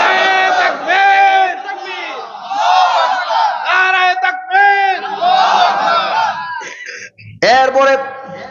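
A large crowd roars slogans in unison with raised hands, the loud chanted shouts coming in repeated waves separated by brief pauses and ending in a final sharp burst.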